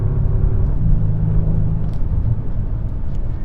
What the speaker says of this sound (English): This V8 is not only quicker, but in my opinion, it just sounds better straight from the factory.